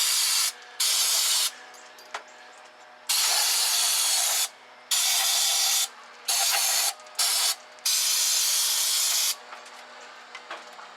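Carb cleaner sprayed in repeated bursts onto the sticky choke linkage of a 1964 Ford Thunderbird barn find, loud close hissing blasts of one to two seconds separated by brief pauses, alone without talk.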